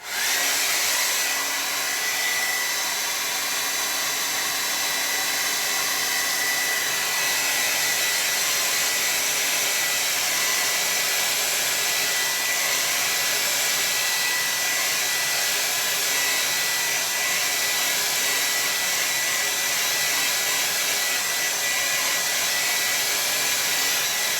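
Hair dryer blowing on a watercolor landscape painting, a steady, loud, unbroken airy whoosh with a high-pitched motor whine that holds level throughout with no voices.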